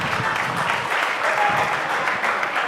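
A quiz-competition audience in a gas challenge between university teams applauds the team scores, a steady, dense clapping that fills the whole stretch at moderate level.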